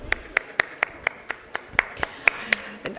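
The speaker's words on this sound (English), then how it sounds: "A nice, healthy applause." Scattered, slow hand claps at a summit as a guest executive is welcomed on stage, a dozen sharp separate claps in a steady loose rhythm rather than full applause, fairly near and fairly quiet.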